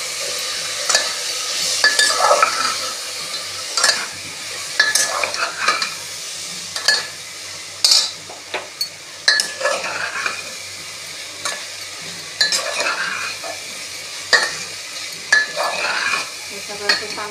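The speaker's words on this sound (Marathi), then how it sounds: "हे सगळं ते चांगलं भाजून घ्यायचं." Potato and roasted green pea mixture being roasted in a pan, a continuous close sizzle punctuated by repeated scraping and clinking strokes of a spatula against the pan, steady and rhythmic with no talk.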